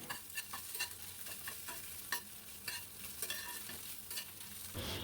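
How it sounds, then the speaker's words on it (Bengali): A fried egg sizzles in a pan over a high gas flame while it is cut into pieces, with steady frying hiss and repeated sharp scraping taps of the utensil, close and moderately quiet, no talking. "এবারে টুকরো টুকরো করে আমি এই ভাজা ডিমটাকে কেটে নেব"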